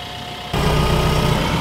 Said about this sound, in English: the tractor's even running